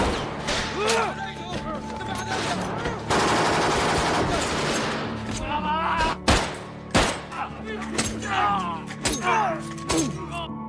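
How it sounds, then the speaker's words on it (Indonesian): Close-range gunfire erupts in a SWAT action film, with a dense burst of automatic fire followed by sharp, separate loud shots and thuds, set against a dramatic score and crashing effects. "baku tembak jarak dekat pun tak terhindarkan"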